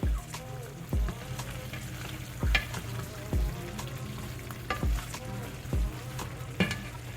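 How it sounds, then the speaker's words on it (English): Chipotle barbacoa sauce with garlic and adobo sauce frying in a pot, stirred with a steady sizzle and regular scraping knocks of the spoon roughly every second, close and moderately loud. "Give it a quick stir."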